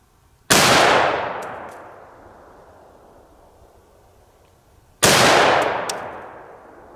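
Two loud, close rifle shots fired through a 3-port muzzle brake, each a sharp crack followed by a long ringing decay, spaced about four and a half seconds apart with no talk.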